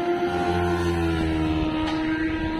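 A boat motor drones loudly and steadily near at hand in Navotas, a continuous engine hum with strong harmonic tones that shift slightly in pitch.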